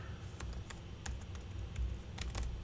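Someone types on a computer keyboard while programming, giving a string of quiet, irregular key clicks spaced unevenly over a soft background.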